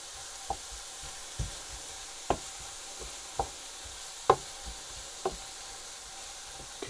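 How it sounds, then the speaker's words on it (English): A spoon or spatula stirs sausage casserole as it sautés in a pan. Steady soft sizzling runs under sharp periodic scrapes and knocks, about one every second, with no voices. "Keep stirring around."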